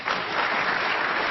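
Crucible snooker crowd, many on their feet, applauding the players' introduction in a dense, loud burst of clapping that fills the whole moment.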